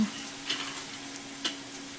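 Onions fry in a pan as the base for a gravy for a Kathiyawadi green chickpea curry, giving a steady, quiet sizzle with two brief louder crackles partway through.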